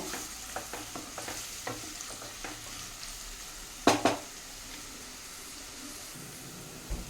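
Two medium chopped onions hit hot oil in a pan and are stirred in, giving a steady sizzle broken by a rhythm of spoon scrapes and a couple of louder clatters midway, with no talking.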